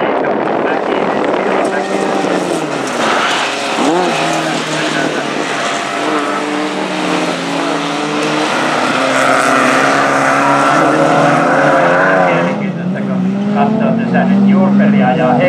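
Race cars in a Finnish JR Puolanka race roar continuously at close range, engines rising and falling through gear changes, with a commentator talking over the noise.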